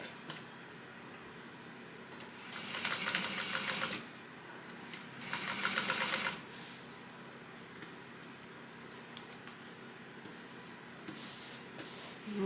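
A sewing machine stitches a crossbody bag in two short bursts of rapid, buzzing mechanical running, each lasting about a second and a half, separated by quiet pauses. The sound is close and fairly soft, with no talking.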